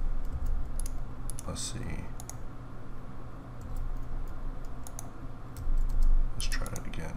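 Computer keyboard typing and mouse clicking while working in Marvelous Designer and Blender, with scattered light clicks and short bursts of keys under steady talk and a low background hum.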